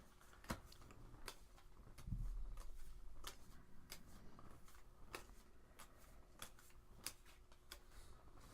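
Quiet, intermittent riffling of Fluxx playing cards, with sharp clicks scattered at irregular intervals and a brief soft thump near the start, no talking.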